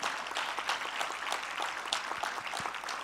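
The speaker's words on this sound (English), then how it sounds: "Can we give all of our speakers a round of applause?" A conference audience claps for a panel of speakers, a dense, steady wash of many hands applauding together at moderate distance for a few seconds.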